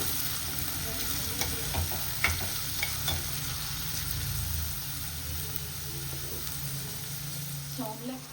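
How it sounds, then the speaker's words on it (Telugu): Chopped onions and green chillies fry in hot oil for mutton kheema, giving a steady close sizzle with occasional stirring scrapes throughout. "ఉల్లిపాయలు బాగా ఫ్రై అవ్వాలి."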